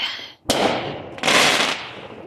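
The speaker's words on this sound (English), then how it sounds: "One more firework." Fireworks outdoors: a sharp close bang at once gives way to a loud hissing, crackling burst lasting about a second and a half, then a fading rush of sound.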